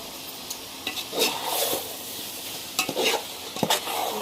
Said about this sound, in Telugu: ఇవన్నీ బాగా కలపాలన్నమాట, ముక్కలు పట్టేట్టుగా.